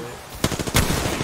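A short burst of rapid gunfire in a video game, several sharp shots close together over about a second, loud and near.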